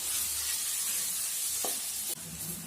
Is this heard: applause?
no